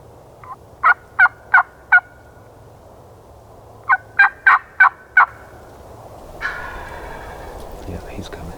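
A wild turkey gobbles while strutting in South Carolina woods, in two loud bursts of four to five rapid, rattling notes separated by a short pause, followed by softer rustling.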